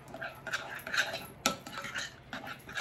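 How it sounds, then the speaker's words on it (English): Sour cream and powdered taco seasoning being stirred together in a bowl for taco dip, with soft repeated scraping and clinking of a utensil against the dish, close and fairly quiet. "And just mix that up."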